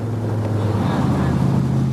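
An AC Cobra 427 drives past with a deep, steady engine drone and rumbling low tones mixed with wind noise, loud and continuous.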